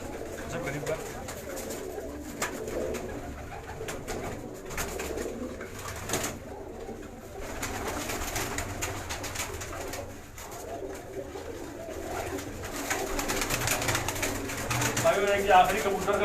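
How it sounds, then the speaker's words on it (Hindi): A pigeon coos softly amid steady background noise, with someone talking over parts of it. "ये कबूतर है"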